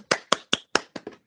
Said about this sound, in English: We owe you all a round of applause.